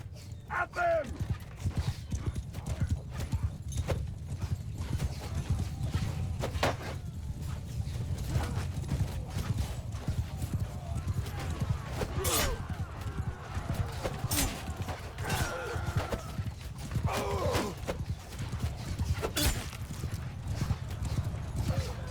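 Cavalry horses galloping into battle in Mount & Blade 2: Bannerlord, a dense, continuous drumming of many hooves with occasional neighs and clanking gear, loud and close, with shouted voices over it.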